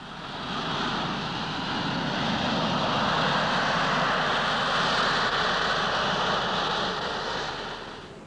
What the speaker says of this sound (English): By adding and subtracting forces, the Harrier pilot can balance them out, making the aircraft hover.